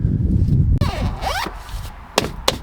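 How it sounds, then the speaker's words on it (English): A zipper on car camping gear is pulled closed, giving a close, rasping zip with rising sweeps over about a second, followed by a couple of sharp clicks or taps. "And the zipper zips up and brings tension between the sides."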